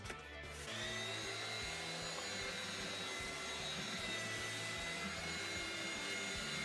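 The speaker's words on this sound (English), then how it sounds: "It's going to involve belt sander and dust mask." A belt sander runs steadily on an old oak stair tread, a close, continuous whirring grind that starts abruptly and holds at an even level without speech.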